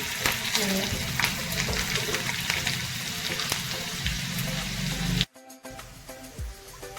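Mustard seeds and finely chopped green chillies crackle and sizzle in hot oil as a tempering for khaman dhokla, with dense, close popping that cuts off abruptly near the end, leaving a few faint crackles.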